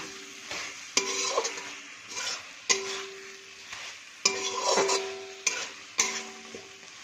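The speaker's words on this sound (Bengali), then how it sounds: "সুন্দর নেড়ে চেড়ে কষিয়ে নেব" Potatoes fried in oil being stirred and sautéed in a pan for a young jackfruit roast, with a steady sizzle broken by sharp, repeated scraping strokes of a spatula about once a second, close and clear.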